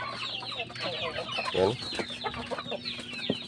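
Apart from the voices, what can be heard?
caged chickens clucking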